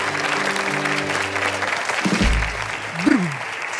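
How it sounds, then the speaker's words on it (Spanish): Studio audience applause on a Chilean comedy show, a steady dense wash of clapping with a voice speaking over the first half and brief vocal sounds near the end. "Un aplauso para El Flaco porque es un bacán."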